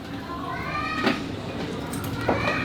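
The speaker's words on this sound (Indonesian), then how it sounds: "Ini kucing-kucingnya di sini ya" Cats meow faintly indoors, a few short calls rising over a steady background hum.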